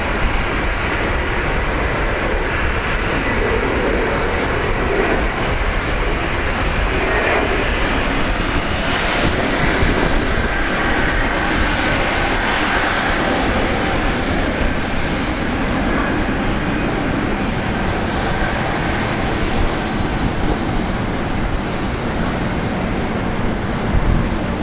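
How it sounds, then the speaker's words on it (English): A Philippine Airlines airliner on a direct flight to Manila, heard at Brisbane Airport as a loud, continuous jet engine roar that holds steady throughout. "Direct flight to Manila, Philippine Airlines."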